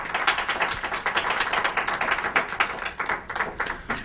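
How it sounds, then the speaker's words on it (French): Lively clapping from an audience at an interview event, quick uneven hand claps rising and dipping in a rhythmic, fairly close patter throughout. "Est-ce qu'on peut donner les acclamations?"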